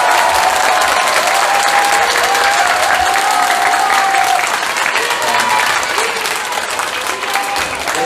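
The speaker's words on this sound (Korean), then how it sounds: "격려 박수 한번 부탁드립니다" A large audience at a political talk concert in Ulsan gives loud, continuous encouraging applause, close and full, with a few shouts rising over the clapping before it eases slightly toward the end.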